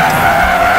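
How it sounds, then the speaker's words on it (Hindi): Loud, continuous tire skid as a car brakes hard to a sudden stop, a steady screeching hiss with low rumble filling the short moment, no voices. "उसने गाड़ी को ब्रेक मार दिया। गाड़ी एक झटके के साथ रुक गई।"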